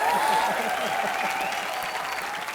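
Studio audience at a TV entertainment show bursting into loud applause, dense clapping that holds steady and eases slightly at the end, with a voice speaking over it.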